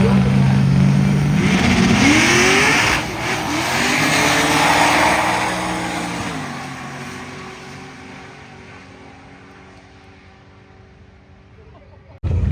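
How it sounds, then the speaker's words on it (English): Race cars at a drag race track, a loud close engine roar with rising revs and pitch sweeps that gradually fades into the distance, leaving a quieter background with a sudden loud burst at the end. "as you can hear, we are currently running cars"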